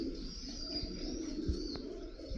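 Pure Sialkoti pigeons coo in low, steady, overlapping calls, with faint chirps and a few soft thumps from the loft in the background.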